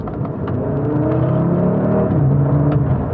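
A 2022 CUPRA Formentor VZ5 driving a stretch of curves in Cupra mode: a steady engine drone from inside the car, with gear changes and rising revs heard over continuous road rumble.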